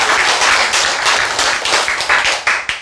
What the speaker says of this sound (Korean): 그 박수 보내야 돼.